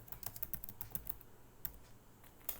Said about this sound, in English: So now I have to type FDA tool.